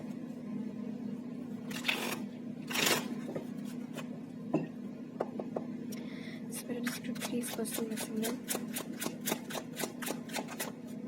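Tarot cards shuffled by hand in a series of rapid riffling bursts that grow quicker and more regular toward the end, with faint room tone beneath and no one speaking.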